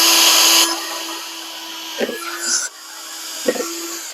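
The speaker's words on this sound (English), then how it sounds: "So you can punch out the holes or you can drill out the holes." A power drill whirs at high speed while boring holes in plastic planter containers, a sustained loud burst at first, then quieter running with short bites and rattles as the bit punches through the plastic.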